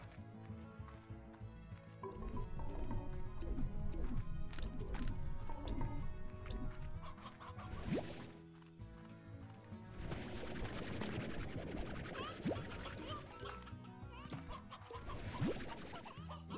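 Rock chickens in the video game Slime Rancher cluck and squawk in a dense, busy jumble amid game sounds, steady and moderately loud throughout with brief louder peaks.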